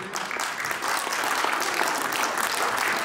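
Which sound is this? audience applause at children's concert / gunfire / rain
audience applause at children's concert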